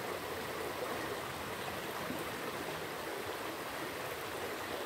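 A mountain stream and waterfall rush steadily at the top of a falls, a dense, continuous broadband roar with no voices.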